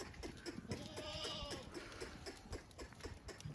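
Osmanabadi goats in a stocked sale lot bleat faintly amid scattered clatter and shuffling, the calls distant and intermittent over a low, busy background.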